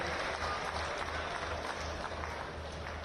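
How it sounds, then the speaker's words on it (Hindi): Audience applause fills a public government ceremony in Bahraich, Uttar Pradesh, as a steady, dense clapping from a large crowd that holds evenly throughout at a moderate distance. "आप सभी से निवेदन है कि जोरदार तालियों से इन सुंदर क्षणों की शोभा को दुगनी करने बहुमूल्य करें।"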